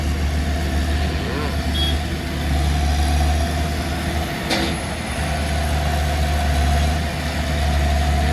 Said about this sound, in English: Tractor rolling there with chain.